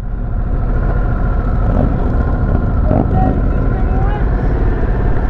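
A 2022 Harley-Davidson Sportster S engine rumbles steadily on a demo ride at Daytona Bike Week, a loud, constant low drone with wind rush, while a voice talks briefly over it.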